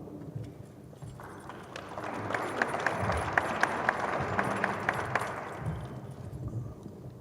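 An audience at an evening tribute event in Córdoba gives steady, sustained applause for an incoming speaker, dense clapping from a full room that holds for several seconds before tapering off.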